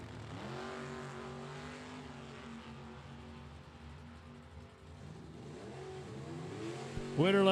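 Drag racing cars, a Camaro in the right lane, launch down the strip with a loud sustained engine roar rising through gear changes, staying strong throughout before a sharp burst near the end.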